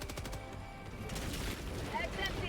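Explosive rifle fire in the video game Helldivers 2: a rapid series of sharp shots and blasts running together over dense background noise, loud and close, with no clear speech.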